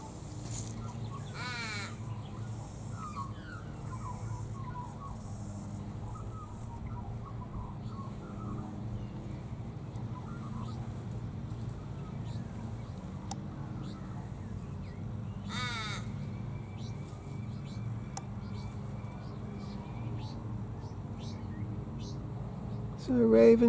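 Australian ravens feeding on nectar in a silky oak (Grevillea robusta) give two drawn-out, drawling caws several seconds apart over quiet outdoor ambience, with faint talk nearby.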